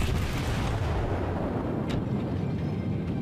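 Heavy naval gunfire in World of Warships aimed at a New York battleship, a continuous booming rumble with dense low-end roar throughout, loud and without talk.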